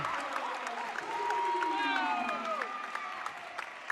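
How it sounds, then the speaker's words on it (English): Crowd at a high school basketball game cheers and applauds after a fast-break layup, a steady roar with clapping lasting throughout, while a commentator talks over it. "to let the crowd go wild"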